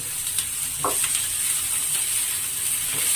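Salted vegetables fry in a pan for pasta, giving a steady, close sizzle throughout with a brief clink of stirring near the start.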